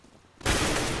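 A headshot in a shooter video game lands as a sudden, loud burst of gunfire after a brief quiet moment, with the dense shooting continuing to the end.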